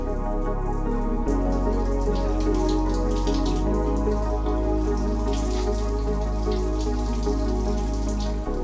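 Cold shower water running steadily, a constant hiss and patter of spray falling on a surface, loud and close, with a slight shift in tone after the first second and no voices.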